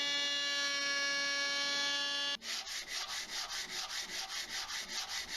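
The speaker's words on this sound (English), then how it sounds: "When the glue was set, I flattened the ends and sanded the faces." Power sanding the faces of glued-up reclaimed oak, a steady abrasive whir with rhythmic pulsing strokes that starts after a brief tonal hum, close and fairly loud with no talking.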